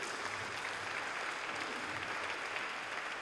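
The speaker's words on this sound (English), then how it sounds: "a round of applause for our panel here" Steady audience applause for a MoneyWeek panel at St Matthews, a dense even patter of many hands held at a constant level throughout, with no voices over it.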